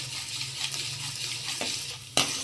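Soft, steady sizzle of urad dal frying in oil, with a couple of brief utensil knocks near the end.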